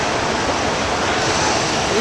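Floodwater from a swollen river surges in a constant, loud broadband roar after heavy rain in Kathua, Jammu and Kashmir, with no break in the rushing.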